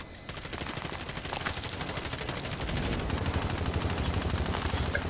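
Sustained rapid P90 gunfire in Call of Duty Warzone, a dense continuous burst of shots that runs through the whole stretch at steady, fairly loud level with no talk.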